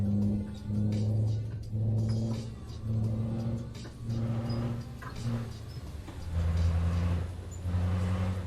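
Truck engine in Euro Truck Simulator 2 revving in repeated surges, a deep rumbling tone rising and falling about once a second, fairly close and without speech.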